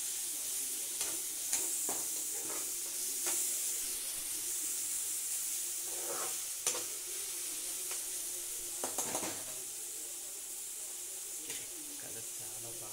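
Chicken and chopped tomatoes fry in oil with a constant bright sizzle, broken by scattered clacks and scrapes of stirring, while a voice speaks at times in the background.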